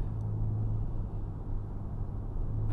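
Engine and exhaust of a 2007-09 Acura MDX fitted with an ATLP J-pipe mod, a steady mild throaty hum and low rumble while cruising, heard from inside the vehicle with no talk.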